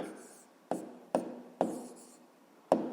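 A pen writing numbers by hand during a fifth-grade decimal maths exercise, heard as four short sharp taps and scratches spaced irregularly against a quiet background.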